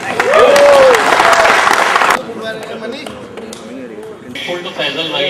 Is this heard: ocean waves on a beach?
no